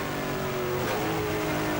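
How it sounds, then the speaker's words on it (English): An NZV8 race car engine drones loudly on track at Pukekohe, its steady roar dipping in pitch midway as the driver shifts from fourth to third gear through a sweeping corner. "you hear that slight change in the engine noise. That's actually Kane going from 4th to 3rd gear around the sweeper."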